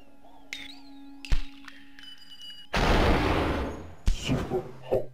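Gunfire in the video game Superhot, a couple of sharp shots followed by a longer burst and further impacts, loud and alone with no voice over them.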